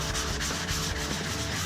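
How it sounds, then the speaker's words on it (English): Rhythmic wet sanding strokes on a car headlight, a close, steady rasping back-and-forth rub repeating several times with no voices. "just start sanding it down"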